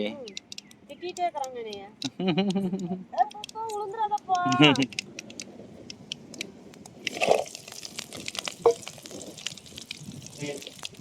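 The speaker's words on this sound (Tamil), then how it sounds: "கடுகு உளுந்த கடலப்பருப்பு போட்டாச்சு பாருங்க நல்லா பொரியுது" Mustard seeds, urad dal and chana dal splutter in hot oil during outdoor cooking under a tamarind tree. A voice talks over the first half, then rapid crackling pops take over, sharp and close.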